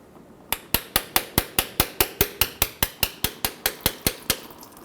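A tool taps against the transmission pan of a 2000-2007 Ford Focus to start draining the fluid: about twenty sharp, evenly spaced metallic hammer blows, close and loud, in a quick steady rhythm.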